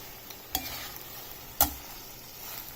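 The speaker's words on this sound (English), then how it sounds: "Mix the red chili powder to all the vegetables." A spoon stirs red chili powder into mixed vegetables frying in a pan, a soft sizzle under two sharp scraping clacks against the pan.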